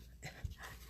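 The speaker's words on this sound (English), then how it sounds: "No, Shelly, that dog is not a pain in the butt" A pet dog whimpers faintly in a quiet room, a few soft, brief whines and a small yip heard from nearby at low volume.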